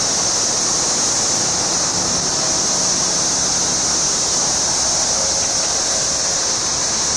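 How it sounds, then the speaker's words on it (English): Thirteen-year cicadas in the trees around Nashville, a loud continuous high-pitched droning buzz that fills the air without pause. "The noise you hear are the cicadas in the trees."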